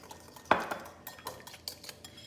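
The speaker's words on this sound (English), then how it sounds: "so you've done your little whisking" A whisk clattering in a bowl of olive oil and ramen seasoning, a sharp metallic clink followed by several lighter scraping taps, fairly close and quiet.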